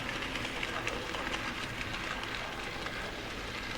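A short rake of model railway Grampus wagons rolls along the track with a continuous low rumble and faint clicking, heard at a moderate distance.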